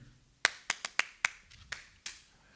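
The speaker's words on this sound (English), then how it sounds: "so it's a series of claps" A series of seven or eight sharp hand claps in an irregular rhythm, close and crisp with short decays, heard alone in a quiet room.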